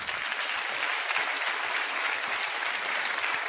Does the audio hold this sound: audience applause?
yes